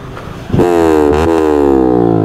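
A V4 motorcycle fitted with a loud Akrapovic exhaust revs up close, its deep growl rising sharply in pitch and then holding a strong, buzzing drone.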